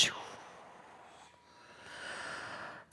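One slow, soft breath drawn in and let out during a guided meditation, close and quiet, with a sharper breathy burst at the very end; no words spoken.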